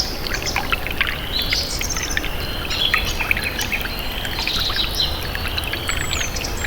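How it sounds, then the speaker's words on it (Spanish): Outdoor soundscape of birds chirping and calling in a busy place, with repeated bird notes over a constant wash of traffic and distant human activity; no clear speech stands out. "Vamos a escuchar un paisaje sonoro de alta fidelidad."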